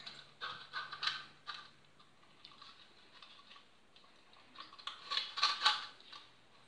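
Plastic float refitted and clipped back into place, giving a run of small, close ticking clicks and light creaky snaps in scattered bursts, with a sharper cluster of clicks near the end.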